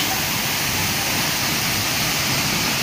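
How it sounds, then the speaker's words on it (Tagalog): Inambakan Falls in Ginatilan, Cebu pours with a steady, dense roar of falling water, close and loud, constant throughout with no voices over it. "Ang Inambakan Falls mga kaibigan sa Hinatilan, Cebu."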